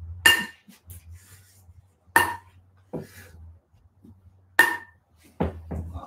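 A ping-pong ball strikes metal cooking pots, including a pressure cooker, in a trick-shot challenge, giving three sharp, ringing clanks about two seconds apart, then a softer final knock, each followed by faint rattles, close and alone.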